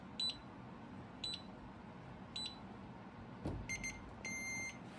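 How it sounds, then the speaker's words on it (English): A KAER safe's fingerprint scanner gives a few quiet electronic beeps at even intervals, then a quick cluster of chirps and a longer sustained tone confirming a successful scan, against a soft background hush. "that short then long beep says that it was successful"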